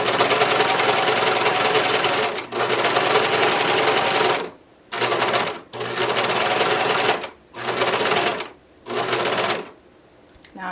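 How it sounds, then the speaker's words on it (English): A serger sewing machine stitches a fabric seam in loud, fast whirring runs that stop and start several times, with short quiet pauses between bursts. "I'm going to go ahead and sew. This might be a little bit loud on the recording"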